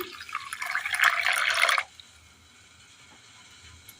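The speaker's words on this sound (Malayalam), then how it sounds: "വെള്ളം ഒഴിച്ചു കൊടുക്കാം." Water is poured into a bowl of semolina with a brief splashy gush lasting under two seconds, followed by near silence.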